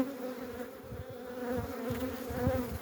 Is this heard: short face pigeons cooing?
no